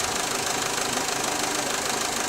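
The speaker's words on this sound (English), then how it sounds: "engine start and running" A car engine idling steadily after starting, with a dense, even mechanical clatter and hiss that runs on without change and no voices.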